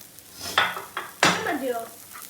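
Cooked rice tipped into a pan and stirred, giving several clattering scrapes and knocks of utensil against metal over a faint sizzle, close and fairly quiet.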